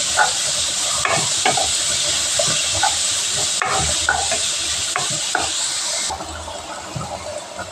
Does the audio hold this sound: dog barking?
no